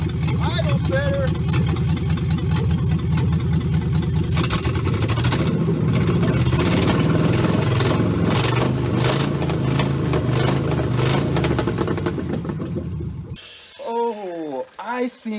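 A 1967 Pontiac engine with a newly changed fuel rail runs loud and close at a rough, rumbling idle for about thirteen seconds, then shuts off, with talk over the engine.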